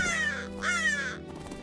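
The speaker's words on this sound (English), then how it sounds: "she met a big crow hopping in the snow" A crow caws twice, loud and close, each call a harsh drawn-out rasp, with a faint low hum beneath; set in a storybook scene of a big crow hopping in the snow.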